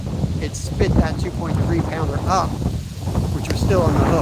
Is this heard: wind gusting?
yes